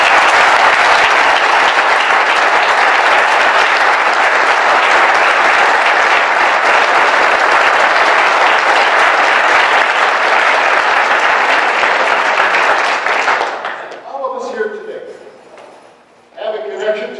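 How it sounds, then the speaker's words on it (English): Audience applause for former and current board members at the Lower Wisconsin State Riverway 25th anniversary, a loud, long and even roar of clapping that drops away near the end as a voice begins speaking. "why don't you all stand up so we can give you all a big round of applause because you deserve it."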